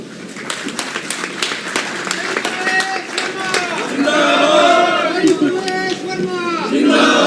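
At a rural hospital inauguration, a crowd gives scattered applause with sharp, irregular claps. It then swells into loud cheering and chatter from many voices, all fairly close.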